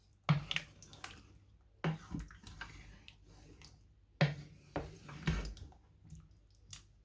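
A spoon stirs a pot of red peas soup, making a few soft scraping clinks and wet sloshes in quiet, separated strokes.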